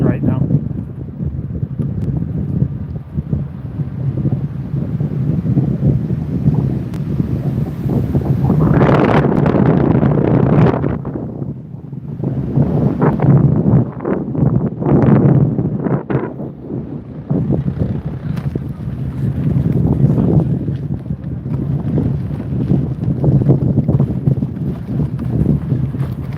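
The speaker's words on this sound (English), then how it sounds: "Might be more wind noise because I'm heading against the wind right now." Heavy wind buffeting the microphone on an electric unicycle ridden into a headwind on a canyon route near Boulder, with loud rumbling gusts that surge and ease, while a rider talks over it.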